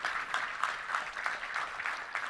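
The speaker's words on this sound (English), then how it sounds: "Let's give a round of applause for Addie" Brief applause for a young girl at a touchdown club luncheon, a modest patter of claps from a seated audience heard at a distance, fairly faint and uneven over a couple of seconds.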